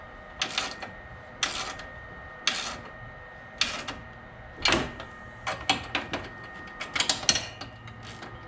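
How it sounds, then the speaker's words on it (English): A worn ratchet wrench clicks in short bursts while tightening a homemade trailer hitch on a John Deere riding mower, about ten close, distinct rattling strokes spread unevenly with brief pauses between them. "This ratchet is not exactly happy to be here anymore."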